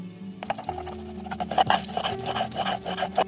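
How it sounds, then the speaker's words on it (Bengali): Elephant apple (chalta) with black mustard seeds, green chili and salt is ground on a flat grinding stone, producing continuous close rhythmic scraping and rubbing strokes. "এবার এটাকে শিলে ভালো করে বেটে নেব।"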